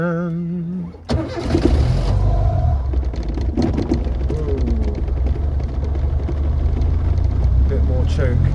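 A Reliant Robin three-wheeler that has sat unused for a while cranks and catches, then its small engine runs loudly and roughly close by, with a voice talking at the start.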